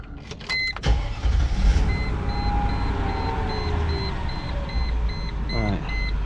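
A 2001 Mercedes-Benz ML430 (W163) drives slowly around a neighborhood after a limp mode fix, its steady engine and road noise rolling underneath with faint intermittent electronic chimes and brief clicks.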